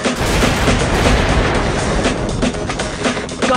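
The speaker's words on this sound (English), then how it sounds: "Shoot the drums to explode them." Shot barrels exploding in a mobile action shooter game: dense, loud booms and gunfire blend into a continuous roar of blasts lasting several seconds.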